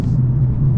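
Mercedes-Benz CLA45S AMG engine droning loud and close with a steady low rumble while driving, held at high revs without a break.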